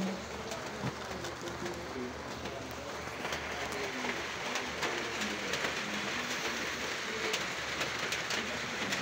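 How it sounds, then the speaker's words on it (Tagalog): Light rain falls steadily on surfaces outside a home during a tropical storm, a soft continuous patter with scattered drops and faint bird calls in the background. "Patuloy pa rin yung ulan pero hindi naman po malakas."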